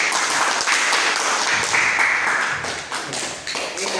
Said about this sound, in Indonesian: kita kasih aplaus buat Hisham ya